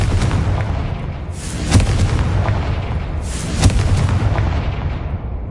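Two heavy fiery blasts from the Confringo spell in Hogwarts Legacy burst over a continuous rumbling game backdrop, the first near 1.7 seconds and the second near 3.6 seconds, each a sharp boom with a short crackling tail.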